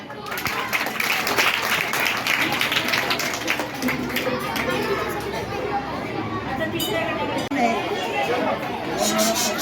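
A school audience at a Constitution Day quiz claps loudly for a correct answer, a dense, sustained patter of many hands mixed with crowd chatter and voices throughout.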